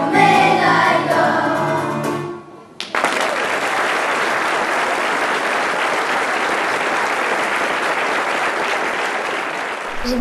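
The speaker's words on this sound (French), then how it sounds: "J'ai bien aimé le public quand ils applaudissaient" Children finish singing a song they wrote at school, and an audience breaks into loud, sustained applause that continues steadily to the end, close and dense.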